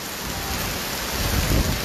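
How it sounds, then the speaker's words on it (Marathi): Heavy rain pouring at Dubai Parks and Resorts, a loud, dense, unbroken roar of drops striking surfaces close to a wet phone, swelling slightly toward the end. "खूपच पाऊस पडायला लागलाय आणि मोबाईल पण भिजलेला आहे"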